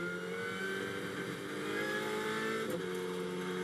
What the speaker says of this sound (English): Pascal Houteau brakes as late as he can